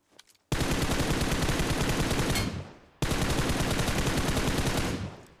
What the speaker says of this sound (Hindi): यही फायर कर रहा हूँ मैं तो हवा में